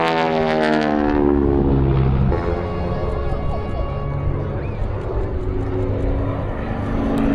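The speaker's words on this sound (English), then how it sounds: "there's just nothing that can compare to the raw power and nostalgia that the World War II Warbirds bring to the show." A World War II warbird propeller aircraft roars loudly at an air show, its deep throbbing engine drone with a rising then falling harmonic whine as it passes close, holding steady and powerful throughout.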